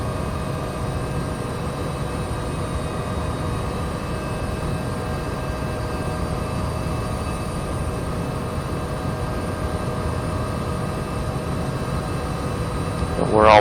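A Bell-412 helicopter in X-Plane 11, flying low over Nantucket island, gives a steady loud rotor and turbine drone with a constant whine on top, unbroken for the whole stretch. A brief rise comes at the very end.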